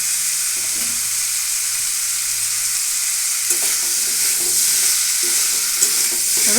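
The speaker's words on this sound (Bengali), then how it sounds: "সব একসঙ্গে ভালোভাবে আমি কষিয়ে নেব" Green jackfruit curry with fried potatoes frying and being stirred in a pan, a loud, steady sizzle broken by scraping stirs, with no voices.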